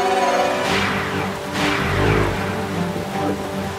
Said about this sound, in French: Oh non! Une tempête approche.